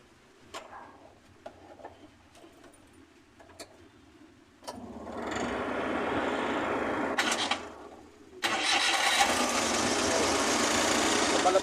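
A few clicks and taps, then a small Suzuki F6A engine with bubbles in its radiator starts and runs with a steady rattling hum, dips briefly, then revs up louder and keeps running.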